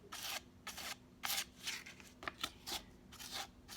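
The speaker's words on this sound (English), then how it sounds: "just take your sandpaper, and you want to go in this direction because we're going to kind of cut off that edge" Sandpaper rubs along the edge of a craft pot in about ten short, scratchy strokes at a steady rhythm, close and quiet with nothing else around.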